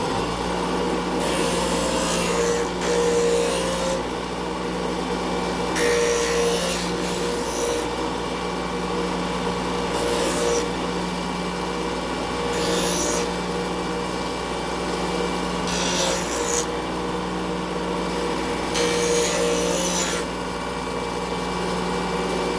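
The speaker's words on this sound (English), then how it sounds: "So I'll show you how quickly I can clean that up on the bench grinder here" Bench grinder smoothing the rough sawn edges of a wooden sign, a steady motor hum with repeated bursts of harsh rasping grind each time the wood is pressed to the wheel, close and alone.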